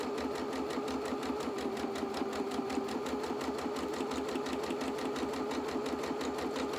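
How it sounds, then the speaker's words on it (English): A home sewing machine runs steadily through a few stitches in place and then a zigzag stitch along the edge of fabric for doll pyjama bottoms, its rapid even needle rhythm continuous and close throughout. "you'll see it do a few stitches in one place, then it'll start zigzagging for me"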